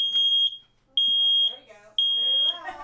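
A household smoke alarm shrieks in sharp, piercing beeps about every half second, loud and close, with a voice talking faintly underneath toward the end.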